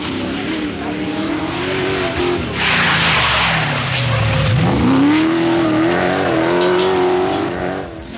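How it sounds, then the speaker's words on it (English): A big Rover Vitesse Group A rally car charges along a forest stage in a 1985 British Rally Championship round in England, its engine rising, dipping sharply and climbing again, with tire scrabble close by. "the crowd favourite Tony Pond in the big Rover Vitesse, and he was definitely a contender for the Group A honours"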